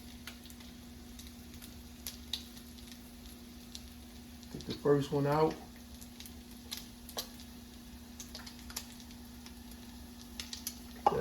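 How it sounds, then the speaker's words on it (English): A soft, continuous sizzle of batter cooking in a hot iron, with a steady electrical hum underneath and brief speech partway through. "I hear it sizzling."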